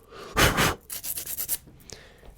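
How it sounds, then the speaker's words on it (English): Sandpaper is rubbed by hand against a part of a scrap-wood chipper in a few close, scratchy strokes, first two longer passes and then a quicker series of short rubs. "let me grab a bit of sandpaper and grind this bit a bit."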